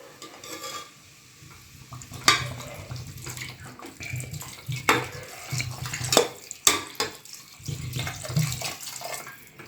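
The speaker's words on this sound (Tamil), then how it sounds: "இந்த காய்கறிகள் வேகிற அளவுக்கு தேவையான அளவு தண்ணி சேர்த்துப்போம்." Water is added to vegetables for Mumbai-style pav bhaji in a cooking pot, a close gushing pour followed by stirring, with scraping and splashing knocks as the mixture is moved around.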